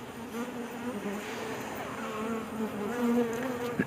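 Honeybees hum around hive frames in a continuous, wavering buzz that fills the whole stretch, close by and steady without pauses.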